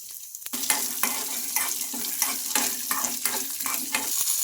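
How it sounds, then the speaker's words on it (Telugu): Green chillies, peanuts and garlic frying in hot oil in a pan, with a steady close sizzle and regular scraping stirs from a utensil, no voices. "ఇప్పుడు ఆయిల్ వేయడం వల్ల మనకు మిర్చి అనేది బాగా ఫ్రై అయిపోతుంది."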